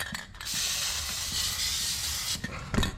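An aerosol can sprays lithium grease in one steady hiss of about two seconds, close by, with mechanical clicks before and after it, on parts of a John Deere 3046R snowblower being installed.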